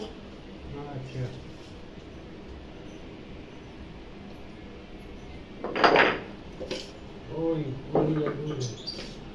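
A serving spoon clinks against steel plates and a pot as rohu fish curry is ladled over rice, a few sharp metallic knocks standing out over quiet room tone, with speech in the background.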